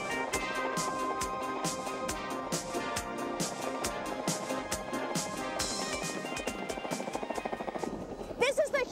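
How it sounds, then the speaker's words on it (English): A Huey utility helicopter flies with a rapid rhythmic rotor chop and engine whine, fairly faint and steady throughout, fading to quieter clatter near the end, with no clear talk. "which is a utility helicopter"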